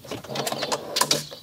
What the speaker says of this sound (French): Tiroir cuisine.